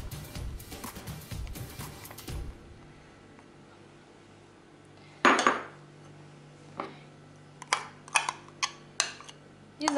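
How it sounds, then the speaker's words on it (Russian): Corn is tipped into a bowl of rainbow salad: soft rustling and a scoop scraping at first, then after a quiet gap several sharp clinks of a utensil against the bowl, close and isolated. "Теперь добавляем сюда кукурузу."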